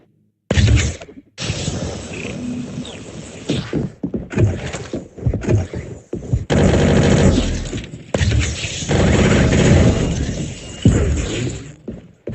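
Assault rifle fire in a video game comes in repeated long automatic bursts, loud and close, separated by short pauses and brief gaps of quiet.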